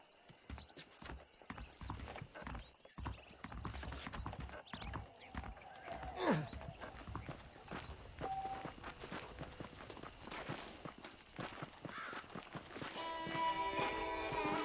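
Steady clip-clop of horse hooves walking on a hard surface in Red Dead Redemption, close and even, with an occasional whinny and quiet game ambience.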